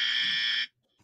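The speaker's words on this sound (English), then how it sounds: "Let's do a buzzer check." A game show buzzer sounds during a buzzer check, one loud sustained electronic tone lasting about two-thirds of a second, then cutting off to near silence.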